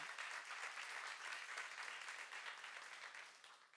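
A church congregation at a Korean youth service sermon applauds. The clapping is dense and continuous, heard from a moderate distance, holds steady for a few seconds and then begins tapering off at the end.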